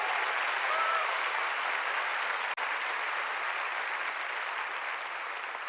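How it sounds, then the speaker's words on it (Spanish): A church congregation applauds during a sermon, a continuous, even wash of many hands clapping at moderate volume, briefly cut by a momentary dropout midway. "Dale fuerte el aplauso al Señor y créele"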